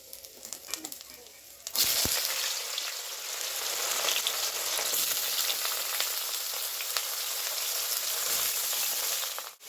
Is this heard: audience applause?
no